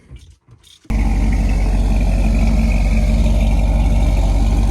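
After a brief rattle, an old motorhome's cold engine settles into a loud, steady idle with a low, constant rumble close by.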